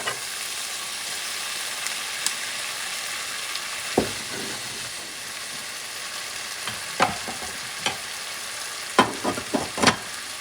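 A tomato and scrambled egg stir-fry sizzles steadily in a hot pan after soy sauce is added, with sharp utensil clacks and scrapes growing more frequent near the end.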